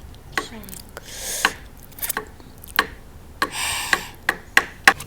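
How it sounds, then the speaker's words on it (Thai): A knife cuts Kyoho grape jelly into small pieces on a board, giving a series of sharp taps and chops at an uneven pace, close by, with soft squishy sounds in between. "หั่นเป็นชิ้นเล็กๆ"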